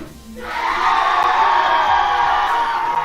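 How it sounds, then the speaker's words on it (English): At a Call of Duty LAN tournament playoff, a crowd bursts into loud, sustained cheering and whooping after a brief quiet start, and the roar holds at full strength to the end. "if you guys think Cage is gonna win, make some noise."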